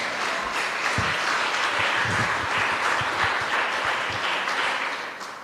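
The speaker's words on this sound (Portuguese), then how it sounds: "um aplauso para Jesus, que ele merece" Sustained applause from a church congregation fills the room, steady and dense throughout, with a few low thumps underneath, easing off slightly at the end.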